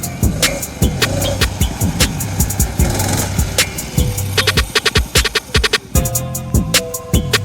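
A go-kart engine revs hard and close under throttle, its buzzing drone rising and falling in repeated bursts with sharp clattering transients throughout.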